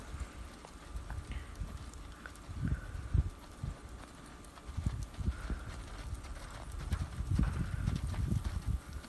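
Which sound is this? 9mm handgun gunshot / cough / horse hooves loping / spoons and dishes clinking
horse hooves loping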